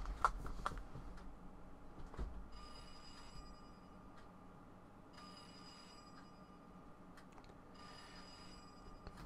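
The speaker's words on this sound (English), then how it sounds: "At that time, at that precise moment, a phone on the wall started to ring." A wall phone in the World End Economica video game rings in several repeated bursts of a high electronic trill separated by pauses, fairly faint over a quiet background with a few soft knocks and clicks.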